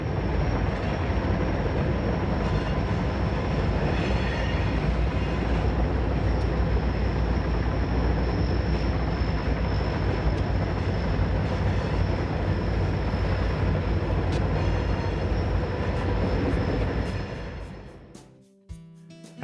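Portland & Western freight train led by locomotive 3002 rolling under Highway 20 beside the Yaquina River on the Toledo District: a steady, loud rumble of rolling cars that holds for most of the stretch, then fades abruptly near the end.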